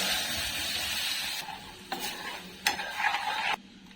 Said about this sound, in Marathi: एक पॅन घ्यायचा त्याच्यामध्ये थोडंसं तेल टाकायचं तेल गरम झालं की त्याच्यामध्ये थोडंसं जिरं टाकायचं